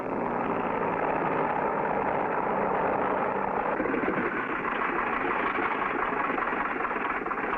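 A cartoon airplane taxiing on a runway, its engine droning in a steady, continuous hum that shifts slightly in tone midway, loud and close with no talk.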